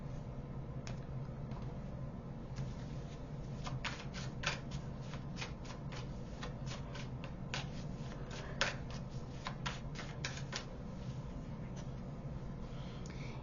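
Oracle cards are shuffled and riffled close by, a steady run of soft papery flicks and snaps over a faint background hum, with no voices.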